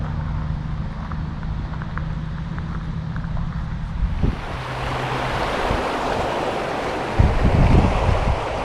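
Quiet outdoor background gives way to a loud, continuous rushing of Spearfish Creek in Spearfish, South Dakota, the flowing water filling the second half with a brief louder burst near the end.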